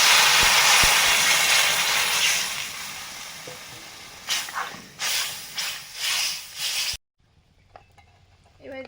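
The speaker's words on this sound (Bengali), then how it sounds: "এবারে জল দিয়ে দিচ্ছি।" Water poured into a hot cooking pan sets off a loud, close steaming hiss and sizzle that fades, then comes back in short stirred pulses before cutting off abruptly.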